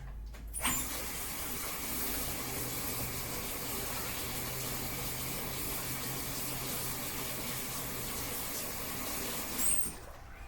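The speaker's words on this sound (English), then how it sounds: "Rinse my hands." Tap water runs steadily into a kitchen sink as hands are rinsed, a continuous close gush lasting about nine seconds between brief handling noises at the start and end.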